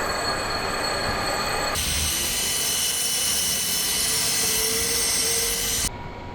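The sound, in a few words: lathe skimming a spindle chuck part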